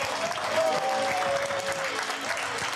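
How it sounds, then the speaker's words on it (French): A crowd at a pétanque festival final in Saint-Juéry applauds the mayor with sustained, dense clapping, while a voice speaks briefly over it. "avec des applaudissements nourris également"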